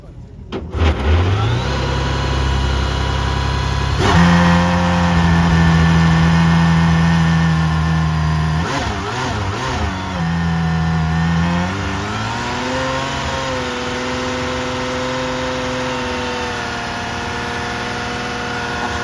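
An engine on a classic British car at a concours d'elegance starts and revs, its loud mid-pitched rumble rising and falling in pitch as the throttle is blipped, with people talking nearby throughout.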